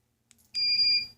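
A single high-pitched electronic beep sounds clearly from a Fanimation Drone ceiling fan, preceded by a faint click, with no talking.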